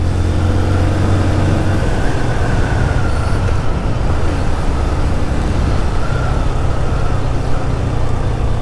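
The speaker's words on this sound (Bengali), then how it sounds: "দেখি একটু জোরে অ্যাক্সিলারেশন করি।" A Hero Ignitor Techno 125 motorcycle running on octane accelerates hard along an open road, heard as a loud, continuous engine drone mixed with heavy wind rumble, its pitch shifting over the ride, with no talking.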